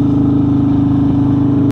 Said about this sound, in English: This bike is just insanely loud